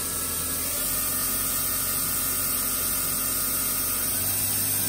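A 2001 Daewoo Puma 230MS CNC lathe runs with a steady mechanical hum and broadband whine as its spindle revs, loud and continuous with little change.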